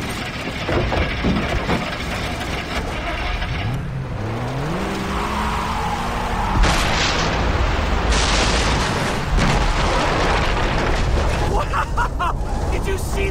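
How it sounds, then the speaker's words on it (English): An explosion booms in the Far Cry 3 video game amid a loud mix of car engine revving, rumbling blasts and game noise, with voices talking over the chaos. "Did you see that explosion?"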